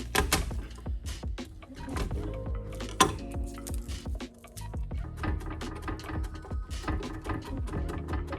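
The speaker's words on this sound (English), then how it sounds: "let's crush a couple cloves of garlic and then mince them as well" A knife taps and chops rhythmically on a cutting board, crushing and mincing garlic cloves, with a few crunching presses and clinks, close and moderately loud, no talking.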